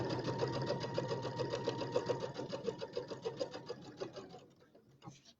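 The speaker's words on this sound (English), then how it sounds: "So I'm just sewing just inside that line that I made, and it was 1/4 of an inch." A sewing machine runs close and fairly quiet, stitching a quarter-inch seam on a St Patrick's Day settee pillow with a rapid, even needle rhythm that slows and trails off near the end.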